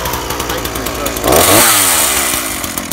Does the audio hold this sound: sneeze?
no